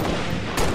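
A single sharp gunshot in the video game Halo Reach, loud and close, with the game's steady background noise around it.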